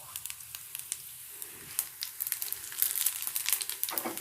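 Crushed cumin seeds crackle and sizzle in hot oil for a dal tadka, a dense, crisp crackling with sharp pops that grows busier and louder toward the end, with no talking.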